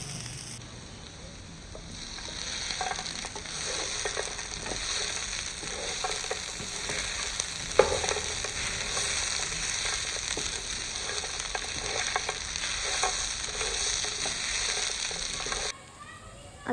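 Kharda (thecha), a coarse chilli paste, lightly roasting in oil for thecha bhadang: a steady, broad sizzle holds for about fifteen seconds, with scattered crackles, one sharper pop in the middle, and no voice.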